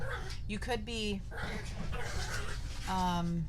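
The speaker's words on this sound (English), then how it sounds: "I apologize about the dogs." Dogs whimper and yip in short, whiny bursts, with a brief bark, while a person talks over them nearby.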